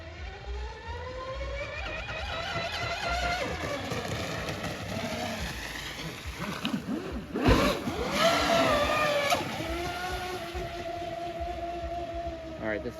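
A fast RC catamaran speeds across a lake, its high-pitched motor whining steadily and sweeping up and down in pitch as it passes, with a brief louder rush midway and faint voices nearby.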